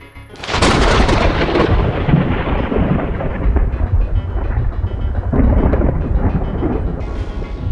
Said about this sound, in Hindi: बिजलियां कड़कने लगी